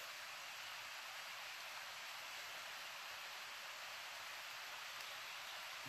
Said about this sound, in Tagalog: Ulan na dito mga tol.